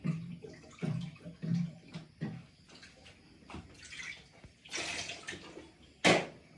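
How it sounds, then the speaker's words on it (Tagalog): Running tap water as hands are washed, a steady splashing flow with irregular bursts and splatters, close by and fairly loud, with no talking. "Maghugas ng kamay."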